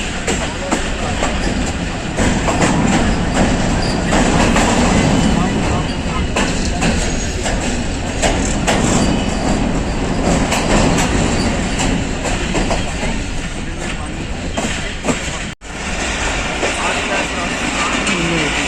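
The Jaffar Express rolls into the Lahore Junction railway yard, a steady loud rumble with wheel clatter and occasional squeal lasting throughout, a voice speaking over it.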